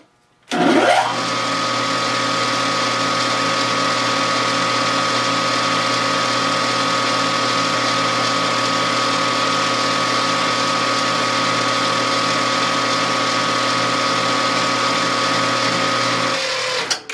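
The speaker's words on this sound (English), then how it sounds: "Drill." Drilling a hole in a small pushrod guide workpiece on a machine-shop lathe: a sudden start, then a long, even motor hum with a faint cyclic pulse, ending in an abrupt stop.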